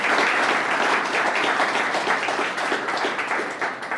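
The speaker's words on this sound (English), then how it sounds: "Let's give her a round of applause." Applause from an audience at a university groundbreaking ceremony for a medical research building, dense and loud clapping that carries steadily throughout and tapers slightly at the close.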